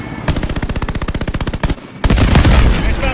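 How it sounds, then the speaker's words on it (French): A machine gun fires in Call of Duty Vanguard, a loud rapid burst of evenly spaced shots that breaks briefly and then gives way to a dense, heavy roar of gunfire and blasts. "Mitrailleuse sortie!"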